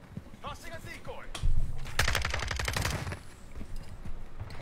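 Rapid automatic gunfire in a video game, a loud close burst of quick repeated shots lasting about a second amid game effects and a voice in the background.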